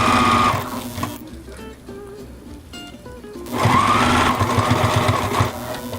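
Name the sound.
sewing machine sewing Velcro onto a wine bottle wrap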